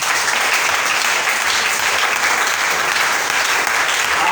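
A church congregation applauding loudly and continuously, a dense wash of clapping that fills the whole stretch at an even level, with faint voices mixed in.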